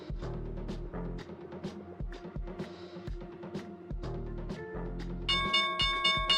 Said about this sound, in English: Here's the opening bell.